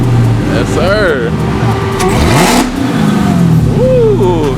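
A 1000-horsepower Dodge Hellcat accelerating hard, its loud engine roaring and climbing through rising revs with a gear change, recorded from inside the car, with voices talking over it.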